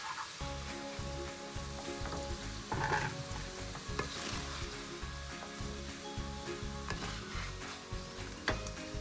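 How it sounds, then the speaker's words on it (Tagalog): Fatty pork fries in a pan for Filipino adobo, a steady dense sizzle with intermittent scraping and stirring sounds throughout, close and alone. "Now this is the pork with fat in there. And just fry that."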